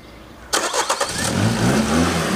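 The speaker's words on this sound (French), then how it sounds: "Et ça démarre au quart de tour, alors que la batterie est complètement vide." Car with a flat battery starting on a jump starter: the starter cranks briefly, then the engine catches and settles into a steady, loud idle, close by with no talk.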